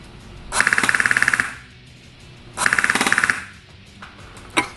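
Two full-auto bursts from an airsoft AEG with an upgraded spring, each a rapid, evenly spaced string of loud mechanical cracks lasting under a second, then a single shot near the end, heard close with no talk.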